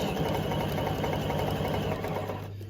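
A sewing machine stitches a quarter-inch seam around the edge of a fabric bookmark, a fast even mechanical whir with rapid needle pulses that slows and stops near the end.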